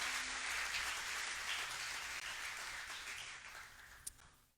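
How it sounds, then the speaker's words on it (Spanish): A church congregation applauds during a Spanish-language sermon, a steady, fairly distant wash of many hands that slowly fades out, with one sharper clap near the end. "dele un aplauso al Señor"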